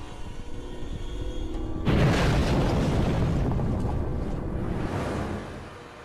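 An earthquake hits suddenly with a deep, roaring rumble that swells in at once, holds heavy and loud for several seconds, then eases off toward the end.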